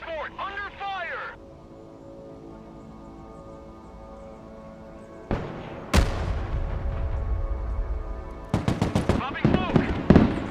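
An armored transport comes under fire in the video game Broken Arrow: a voice speaks briefly, then after a quiet stretch heavy bursts of gunfire and blasts hit loud and close, with rapid clustered shots near the end.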